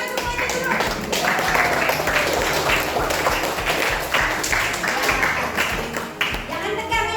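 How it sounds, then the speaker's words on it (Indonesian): A room full of people applauds during a session on sleeping early and waking on time, a loud, dense wash of clapping that continues without a break for several seconds. "tepuk tangan semuanya dulu"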